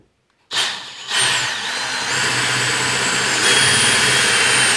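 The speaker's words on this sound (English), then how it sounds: "I'm going to drill a hole first with a drill" A power drill starts abruptly and runs steadily, boring a hole through a roof for a mini wood stove's stovepipe opening, its motor whine shifting pitch as it loads into the material, loud and close.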